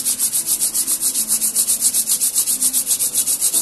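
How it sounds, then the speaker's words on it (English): Palms rubbing briskly together before an eye massage, a steady rhythmic swishing of about six strokes per second, close and fairly loud with no talking. "Rub your hand."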